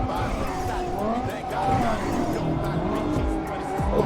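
Tires squeal and engines whine as a car drifts through a racing video game, a continuous wavering screech under excited talk from two players.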